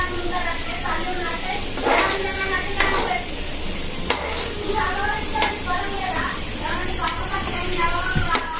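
Onions, green chillies and curry leaves being stirred in hot oil for poha upma, with steady sizzling and frying and intermittent scraping stir strokes, with a voice talking over the cooking.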